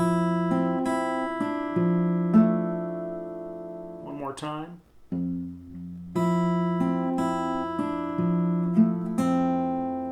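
Fingerpicked acoustic blues guitar phrase, with plucked bass and treble notes, a brief spoken interruption in the middle, then the picking resumes.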